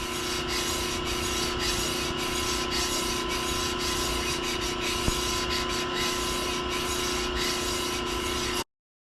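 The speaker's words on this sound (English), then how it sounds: "Getting the whetstone finish on here." Blade being sharpened on a whetstone, a steady rasping rub with faint rhythmic strokes and a constant mechanical hum underneath, running evenly and close throughout before cutting off abruptly.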